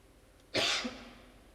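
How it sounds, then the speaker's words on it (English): A pool player gives a single short, sharp cough during a quarter-final match at the World Pool Masters, heard faintly in a quiet arena. "Health-wise, he's suffering, coughing and spluttering"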